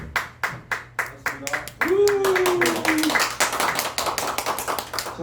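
An audience at a political gathering on the 4.15 election claps, starting as separate sharp claps that swell into steady applause, with a voice speaking over it.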